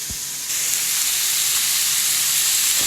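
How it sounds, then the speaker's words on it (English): Beef browns loudly in a hot frying pan, a dense steady hiss that swells slightly after a brief quieter start. "So I'm going to brown this beef off in batches"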